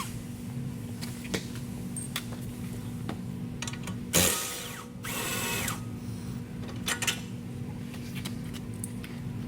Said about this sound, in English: Next, remove the rear bottom shock bolts from the axle.